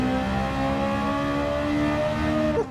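A race car fitted with a race exhaust in Gran Turismo 7 holds a loud, steady, buzzing engine howl at close range, the pitch barely shifting until a brief dip near the end.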